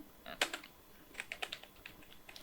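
Someone types a file name on a computer keyboard: a quick burst of close, light key taps, with a few louder strokes near the start and a softer run of keystrokes following.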